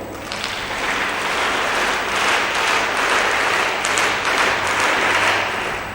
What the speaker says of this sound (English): let's give ourselves an Accolades round of applause